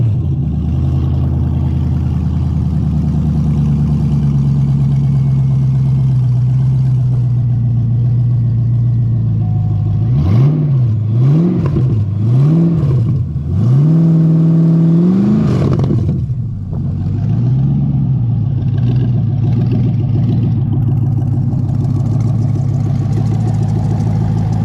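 A Corvette C5 engine mounted on a test pallet at an auto recycling yard idles steadily, then gets several sharp, loud revs in quick succession before settling back to a smooth idle, heard up close.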